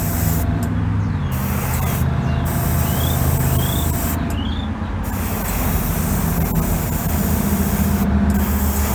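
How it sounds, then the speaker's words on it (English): An older airbrush sprays thinned paint onto custom Indian motorcycle parts in a steady, continuous hiss, with brief pauses and faint higher squeaks between passes. "This particular airbrush that I'm using is an older one."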